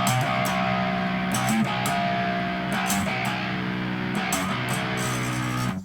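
A distorted metal guitar chugs out a riff of four quick notes then a rest, repeating in a tight rhythmic pattern, steady and close with no voices.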